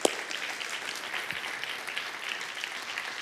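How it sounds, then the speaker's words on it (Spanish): Audience hands clap together in sustained, even applause at a church gathering, a continuous patter of many claps at moderate loudness with a few sharper slaps standing out near the start. "Porque damos unas palmas todos juntos."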